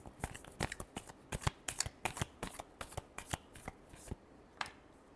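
A deck of tarot cards shuffled by hand in a quiet room, a close, soft run of crisp riffling flicks and taps over about five seconds, fading toward the end, with no voice present.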